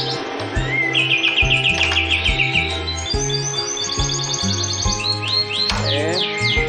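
A caged cucak cungkok bird sings loudly and close, rapid repeated chirps and rising whistled trills in quick rhythmic bursts, with steady tapping or mechanical knocks beneath.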